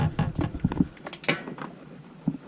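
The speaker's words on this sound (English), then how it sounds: "I got like a 6-inch extension on here. Kind of crank it off." Ratchet with a six-inch extension loosening the differential plug on a Yamaha RMAX XT-R, giving quick clicking and clattering mechanical bursts up close, then quieter knocks.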